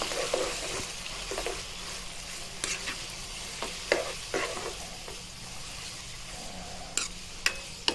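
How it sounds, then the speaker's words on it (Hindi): A pinch of turmeric frying in ghee for chicken jalfrezi gives a soft, steady sizzle, broken by a few sharp clicks and scrapes of stirring, heard close and fairly quiet with no talk. "इसको अच्छी तरह फ्राई करना आपने।"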